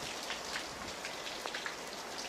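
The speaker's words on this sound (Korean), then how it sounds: "지금 이렇게 비가 내리는데 참 좋아요." Steady rain falls throughout, a dense continuous patter of drops on surfaces with occasional brighter individual splashes and no voices.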